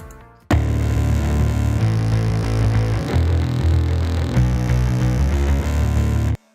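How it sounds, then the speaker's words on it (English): A deep synth bass line doubles a bass guitar, with steady sustained low notes changing pitch, loud and continuous, no voices. "a bass synth, and I use this in a lot of our songs just to double up the bass."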